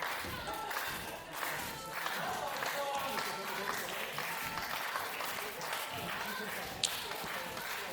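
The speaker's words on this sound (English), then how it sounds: "Crowd rallying behind him." Wrestling crowd at a live match cheering and applauding steadily for a struggling wrestler, a dense continuous roar of claps and shouts throughout, with talk mixed in.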